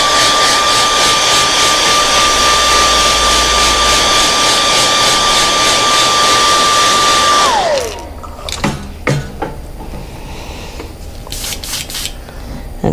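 A heat gun blows loudly and steadily for several seconds, setting airbrushed paint on a Murray cod pattern lure, then winds down, leaving quiet handling clicks and taps.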